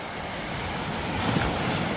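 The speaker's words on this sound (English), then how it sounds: "The wake from the boat." Waves from a passing ferry's wake wash against the shore of a mountain lake in Jotunheimen, a steady soft surf with wind noise across the microphone, growing slightly fuller midway.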